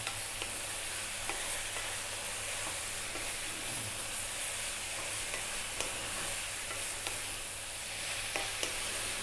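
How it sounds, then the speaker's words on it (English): Beef and eggplant frying over high heat for a beef eggplant masala, stirred almost constantly; a soft, even sizzle with light scraping runs throughout at moderate volume, no voices. "Again, staying on this high heat and stirring pretty much all the time."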